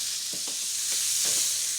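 Chicken and bacon frying in a pan, a steady bright sizzle and hiss close up, with a few soft stirring or turning scrapes underneath.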